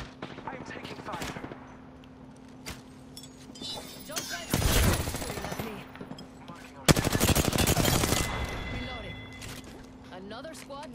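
Automatic gunfire in the battle-royale game Apex Legends, heavy bursts of rapid shots crashing in around the middle and again later, loud and dense over a steady game background with faint radio-style voices.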